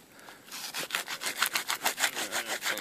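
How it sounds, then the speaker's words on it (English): An object rubbed back and forth against cedar wood beside a mountain stream, about a dozen even, rasping strokes that grow louder and more regular, close up with no talk. "You have to rub it upon the cedar."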